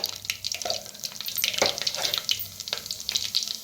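Mustard and cumin seeds tossed into hot oil, crackling and spitting in quick irregular pops over a soft sizzle, fairly close and quiet.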